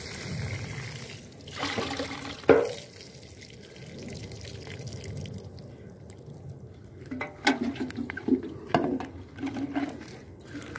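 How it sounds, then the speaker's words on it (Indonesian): Water pours and trickles onto the soil of melon plants in uneven bursts, with light splashing and a few clunks of handling nearby. "Jadi kita siram dulu ya supaya tidak kekeringan sahabat tuh."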